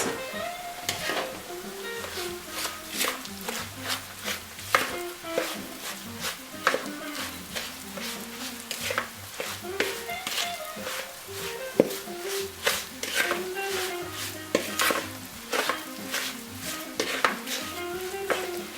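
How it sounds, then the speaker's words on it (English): Ground meat is worked together with breadcrumbs by hand in a bowl, giving steady wet squelching and sticky stirring with occasional clinks of a utensil against the bowl, close and continuous throughout. "I'm gonna add half a cup of breadcrumbs and I will mix it and see how it looks."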